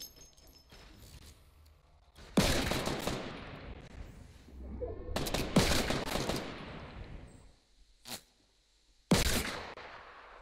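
Pistol gunfire in the video game Fortnite: sharp, loud single shots and short volleys ring out at intervals, each with a ringing echo trailing off, separated by quieter stretches of game ambience.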